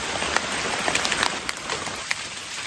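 Steady rain pattering through a forest, a dense, even hiss dotted with sharper drips landing on nearby leaves and surfaces.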